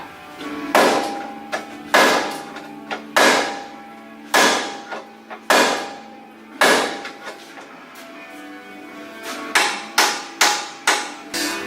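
A hammer bangs on rusted front differential parts of a Subaru Forester in a series of sharp metallic clangs, about a dozen close loud strikes in uneven bursts with short pauses, no talking.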